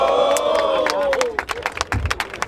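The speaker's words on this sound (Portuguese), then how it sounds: "Mais palmas, família, pra essa batalha, tio!" Crowd at a Brazilian rap battle, a loud roar of cheering and shouting that gives way to scattered clapping and rising applause, with voices calling out through it.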